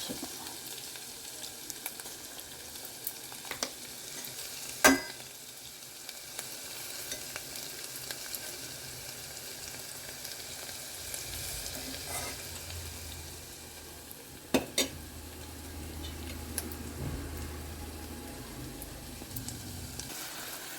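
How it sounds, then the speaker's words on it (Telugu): Cauliflower curry frying and sizzling in a pan, a steady low hiss of oil with occasional sharp clinks and stirring scrapes, close and alone with no talk. "మన కర్రీ అయితే కాలీఫ్లవర్ కొంచెం ఫ్రై అయితే బాగుంటుంది"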